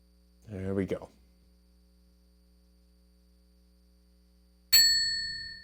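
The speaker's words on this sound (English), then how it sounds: "response time on the desk bell is getting a little quicker" One bright ding from a desk bell rings out and fades slowly, after a brief burst of speech and a stretch of near silence.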